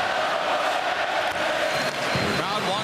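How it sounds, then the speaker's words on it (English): Dense, steady roar of a large hockey arena crowd during a 2002 Stanley Cup Final game, sustained cheering and shouting filling the whole space at a constant loud level with no distinct pauses. "Crowd wants one more goal."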